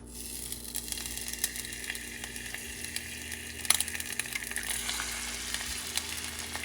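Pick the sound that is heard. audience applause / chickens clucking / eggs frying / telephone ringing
eggs frying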